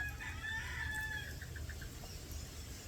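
A chicken being bathed gives a short run of soft, rising clucks and a few quick clipped notes, faint over steady low background rumble.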